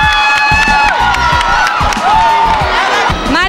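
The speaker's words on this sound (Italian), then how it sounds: "Facciamo un applauso" A live audience at an Italian pop tour show cheers, whoops and claps loudly, with shouting voices and bright, sliding music tones on top of the noise.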